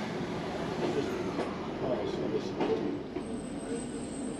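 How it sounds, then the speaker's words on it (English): A train on the Looe Valley branch line draws slowly forward at Coombe Junction, giving a steady, close rumble with low mechanical noise and a few faint clanks, and no voices heard. "Soon we're rolling into Coombe Junction, where the staff must first unlock the points and then the driver can draw us forward."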